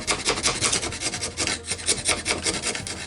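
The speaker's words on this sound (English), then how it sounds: "So I resorted to using a wood chisel to remove the residue." A wood chisel scrapes stubborn plastic residue from the inside of a Commodore 64 case, giving a continuous rough rasping with quick repeated strokes, close and fairly loud with no talking.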